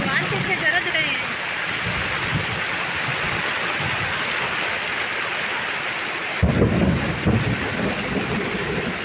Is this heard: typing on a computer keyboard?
no